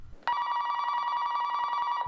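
A telephone rings once, a single sustained bright electronic trill lasting about two seconds and sounding clearly on its own against a quiet background.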